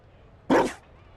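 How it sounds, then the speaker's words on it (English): A Mabari war dog gives a single short, loud bark in the video game Dragon Age: Inquisition's Trespasser DLC, standing out sharply against a quiet ambient background. "You found a dog."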